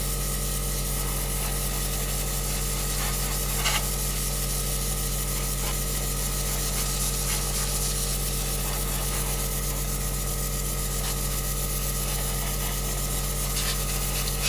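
An airbrush hisses steadily and continuously as it sprays watered-down watercolour paint, a constant broadband airflow with a few tiny flickers and no voices.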